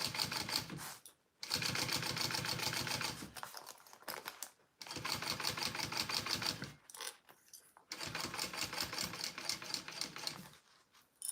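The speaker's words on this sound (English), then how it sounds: "I'm sewing it this way. I'm going bottom to the top." A sewing machine stitching a seam bottom to top on a Zynah garment from Kaur Threads, running in three long steady bursts of rapid needle clatter separated by short pauses, close and alone.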